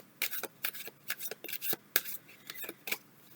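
A deck of cards being shuffled up close, quick crisp riffles and snaps coming in short irregular bursts, fairly quiet with no talking.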